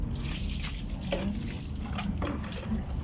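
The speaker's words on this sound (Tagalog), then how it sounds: "bubuhusan ko muna yung tubig kapag tatawulin ko siya" Water is poured from a container while washing something, producing a steady, close splashing and gushing stream with faint background voices.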